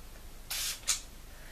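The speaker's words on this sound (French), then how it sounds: "je fais un spray" Two quick hisses of a room fragrance spray misted over a bed, a longer burst followed by a shorter puff, close and fairly quiet in an otherwise silent room.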